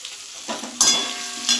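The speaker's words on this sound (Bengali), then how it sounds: "সেই জন্য একটু হলুদ দিয়ে আলুটা ভালো করে ভেজে নেব।" Potato pieces fry and sizzle in a pan with salt and turmeric, a spoon stirring and scraping in short bursts over the steady hiss.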